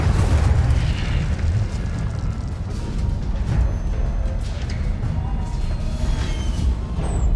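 The Incendio fire spell cast in the video game Hogwarts Legacy: a loud, low, rumbling fiery burst that roars steadily for several seconds, with crackling boom-like texture and no talk.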